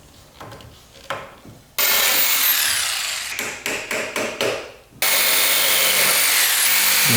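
Wooden dowels are cut diagonally with a power tool while building a garage cabinet: loud, close bursts of harsh cutting noise, a run of short choppy cuts in the middle, then a sustained cut to the end.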